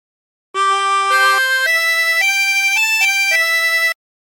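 A 16-hole tremolo harmonica plays a short hymn phrase of Be Thou My Vision, a string of about seven sustained blown and drawn notes stepping up and down, close and loud with a reedy shimmer, no voices.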